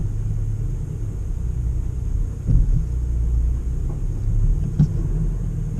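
A 2016 VW Golf GTI rumbles along while driving, a steady low engine and road drone close to the microphone with a couple of brief bumps and thuds, no talking.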